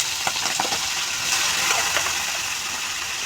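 Bay leaf, whole dried chillies and whole garam masala sizzle in hot oil for chingri malaicurry, a steady, dense crackling hiss with a few sharper pops near the start, close and continuous, with no voices.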